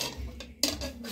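A knife clinks against the side of a pot while poking tender cooked mutton pieces in masala curry, a few close metallic taps and scrapes with a brief pause between them.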